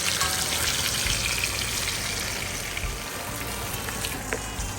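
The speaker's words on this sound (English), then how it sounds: "it's like really sizzling" Steady, loud sizzling of chicken frying in a hot pan, a continuous crackling hiss with small pops, no voices.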